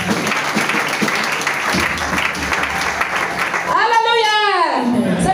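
Church congregation applauding and cheering in acclamation of God, a dense, steady wash of clapping and voices throughout, with a rising-and-falling whistle or cry cutting through near the end.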